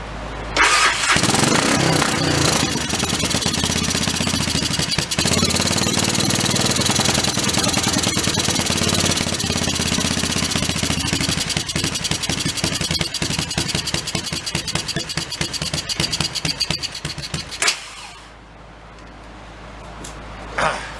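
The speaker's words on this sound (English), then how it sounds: "Still seems rich on the idle part." An early Honda 4x4 ATV engine idles rich with a loud, steady, rough mechanical drone that holds for about seventeen seconds, then drops suddenly to a quieter low rumble.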